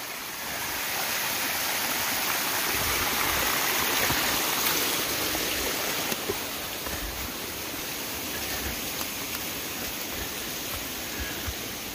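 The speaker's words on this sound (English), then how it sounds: "Another pretty little waterfall." A small waterfall on the Appalachian Trail rushes in a steady, broadband hiss of falling water. It is close and continuous, with no voices.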